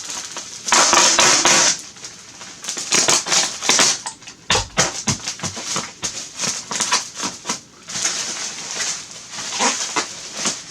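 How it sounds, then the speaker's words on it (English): Packing tape is pulled and pressed down onto a cardboard shipping box holding a VHS DVD combo unit, giving repeated bursts of ripping and crinkling up close, with short pauses between strips. "So go ahead and tape this down."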